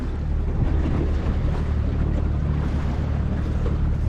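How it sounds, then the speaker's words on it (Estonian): Moderate waves lapping against a small boat out on open water during pike fishing, a steady washing rumble with wind noise buffeting the microphone throughout, no voices. "Siukene mõnus paras lainetus."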